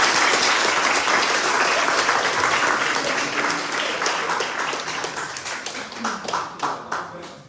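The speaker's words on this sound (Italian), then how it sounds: "Un applauso!" A crowd applauds at an awards ceremony for young local achievers in Pomigliano d'Arco, Italy: dense, loud clapping that gradually thins and fades toward the end, with voices mixed in.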